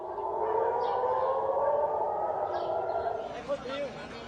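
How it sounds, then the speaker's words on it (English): Air raid sirens wail across Jerusalem, a sustained, steady mid-pitched tone that holds across the whole stretch, with faint rising and falling shifts and some distant background activity beneath it. "Sirens were heard wailing across Jerusalem early on Thursday."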